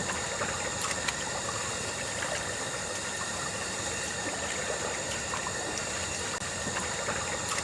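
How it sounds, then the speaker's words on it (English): Algae pond water circulates with pumps running, giving a steady, unbroken churning hum and wash throughout with no voices. "these ponds look like of the algae water and how it's circulating and harvested daily"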